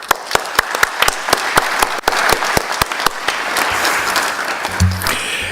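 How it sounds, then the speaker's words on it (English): Steady applause rolls through a conference audience for the morning's speakers, dense continuous clapping with sharp individual claps cutting through near the front, then tapering as a voice starts at the end. "What if we give a hearty round of applause for all of our speakers this morning?"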